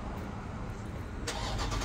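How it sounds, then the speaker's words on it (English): A Dodge Charger's engine turns over and catches, heard as a steady low rumble that lifts into a louder roar about midway through the short burst, with no talking. "We do the good old Charger startup to hear the smoke show be outdone."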